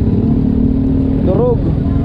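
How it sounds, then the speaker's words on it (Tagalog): Motorcycles and motorized tricycles rumble past in a congested road toward Barihan near Muhon and Mabini, a steady close engine drone with one machine revving by, while someone talks over the traffic. "Motor at saka tricycle."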